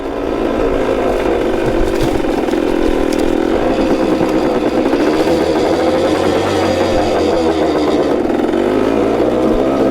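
A 1972 Yamaha CT2 motorcycle being ridden, its small engine droning loudly and steadily throughout, with a brief uneven stumble as a gear is missed partway through.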